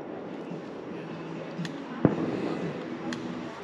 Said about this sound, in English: Right there, those are the people lighting the fireworks off!